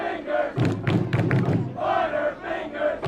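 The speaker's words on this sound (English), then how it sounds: "You can hear the crowd just teasing Danvers offense." A small school's student section at a varsity high school football game against Danvers shouts and jeers in rising and falling bursts, a close, rowdy crowd chant with thumping.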